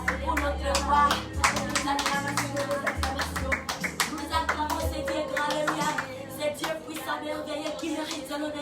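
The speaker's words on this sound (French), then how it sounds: "Avec les acclamations pour notre roi" A church congregation claps along in worship acclamation during an evening service praising Jesus as king, with a steady rhythmic beat of many hands close by and voices singing and calling out underneath.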